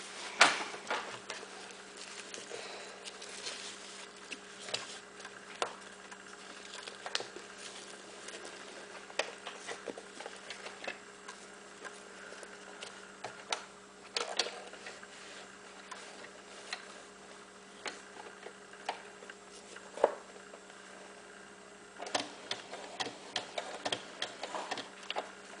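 A sewing machine stitches velcro onto a cloth diaper, running forward and back and then around in a square, giving a steady, quiet, rapid ticking patter with small bursts throughout and no talk.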